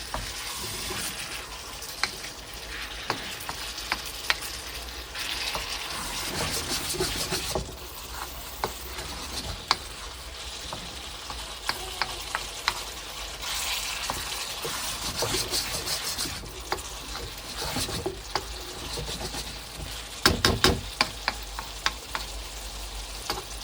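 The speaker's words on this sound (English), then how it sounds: "On it, we'll get our tofu, throw it back in." Tofu with soy sauce sizzles and crackles in a frying pan, with steady frying hiss and intermittent scraping stir clicks throughout, loud and close.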